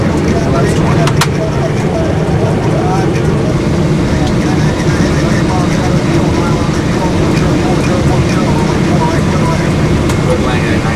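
A United Boeing 777-200 airliner landing on a runway in Chicago, heard from the cockpit as a loud steady roar of engine and airflow noise throughout, with cockpit voices talking over it.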